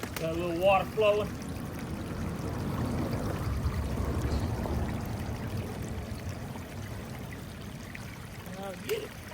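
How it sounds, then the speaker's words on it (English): Water flows and trickles steadily in the background, a soft continuous rushing, with a few brief chirpy sounds at the start and end. "Got a little water flowing."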